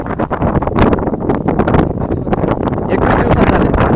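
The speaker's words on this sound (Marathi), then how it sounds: "वारा चालू आहे, थोडा पाऊस पण आहे" Wind gusts steadily across a young tomato field with a little rain falling, giving a loud, continuous rushing roar with buffeting against the microphone throughout.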